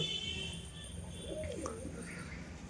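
Pigeons coo softly on a rooftop, giving a few low, rolling calls that rise and fall over steady background ambience.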